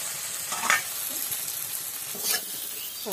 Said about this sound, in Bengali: আর একটু লাল লাল করে ভাজি, তারপরে পাতাগুলো দিয়ে দেবো।